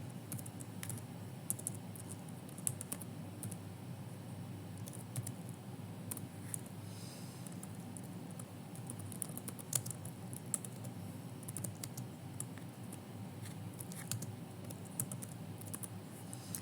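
Steady keyboard typing with frequent light key clicks at an even pace, moderately close and alone, with no talking.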